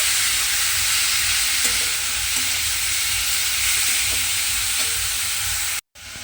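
Grated radish frying in hot oil is stirred in a pan, giving a steady close sizzling hiss with soft scrapes of stirring and no voices, ending with a brief cut.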